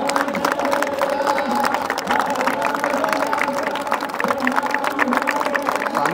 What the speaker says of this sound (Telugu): అందరూ చప్పట్లు అయితే కొడుతున్నారు.